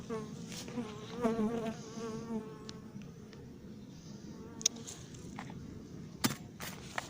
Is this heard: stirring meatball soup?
no